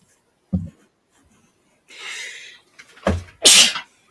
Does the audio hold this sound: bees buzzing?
no